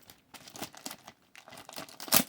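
Large plastic bags from a card grading company crinkle in bursts as they are handled near the microphone, with irregular rustles and a sharp louder crackle at the end.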